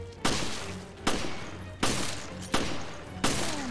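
Gunfire in the video game Resident Evil Revelations: five loud, evenly spaced shots, each with a sharp attack and a decaying tail, heard alone.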